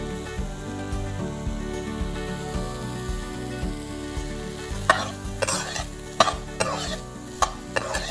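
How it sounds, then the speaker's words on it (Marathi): Boiled vegetables being stirred and sautéed in a pan for aviyal, with a soft sizzle under repeated spoon scrapes and sharp clinks against the pan that grow more frequent toward the end, close by. "भाज्या चांगल्या प्रकारे परतवून घ्यायच्या आहेत।"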